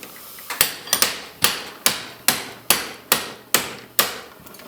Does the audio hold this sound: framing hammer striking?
yes